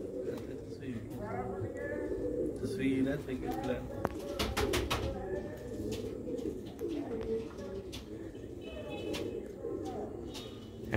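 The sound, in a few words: Sialkoti black-faced pigeon chicks cooing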